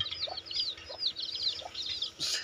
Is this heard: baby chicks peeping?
yes